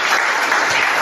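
Churchgoers applauding together, a thick continuous wash of hand claps heard up close without voices.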